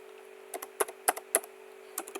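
A password typed on a computer keyboard: a few crisp, quiet key clicks in small irregular bursts, close and alone over a faint steady hum.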